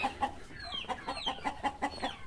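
Farmyard hens clucking near young chicks, a run of short rhythmic clucks repeating about every fifth of a second, close and clear with no talking.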